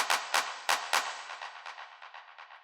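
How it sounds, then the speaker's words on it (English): An electronic clap fill in a music track plays about a dozen sharp, bright claps. The first four are loud and spaced, then quicker, fading repeats follow with a reverb tail. No voice is present. "I've got a couple of clap fills"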